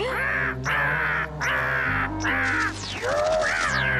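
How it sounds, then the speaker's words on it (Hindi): Repeated loud crow caws in a Hindi cartoon action scene, harsh calls in bursts over a musical score with a brief sliding whistle near the end. "ओह, तो ये बुरा कौवा अब मुझसे बदला ले रहा है।"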